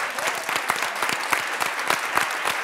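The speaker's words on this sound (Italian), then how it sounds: "andiamo a salutarli con un caloroso applauso" Warm, lively applause for primary school children from Borello, with sharp individual claps standing out in a dense, steady round from a nearby audience.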